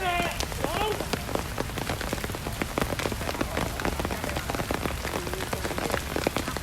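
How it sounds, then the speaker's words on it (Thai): Rain falls on an outdoor sepak takraw court in Thailand during a match, a dense steady patter of drops on hard ground, with a voice faintly talking in the background. "วันนี้ฝนตกครับ"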